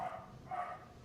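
A pet dog indoors gives two short, faint barks about half a second apart, distant and muffled, with no talking over them.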